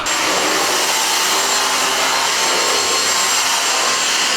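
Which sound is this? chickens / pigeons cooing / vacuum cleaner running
vacuum cleaner running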